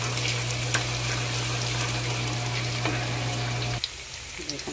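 Ginger sautéing in a hot pan for eel adobo, with a steady sizzling hiss and a constant hum that stops near the end, leaving faint clatter.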